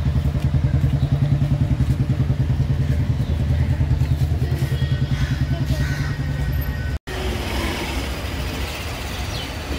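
A motorcycle engine idles close by with a steady, rapid thumping pulse as it is taken out of a park's parking area. After an abrupt cut, a quieter, rougher engine sound continues.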